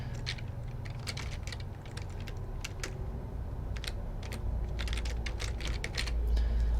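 Rapid clicking of keys on a computer keyboard while entering a folder name during character setup for the game Attorney Online, in irregular bursts over a low steady background hum.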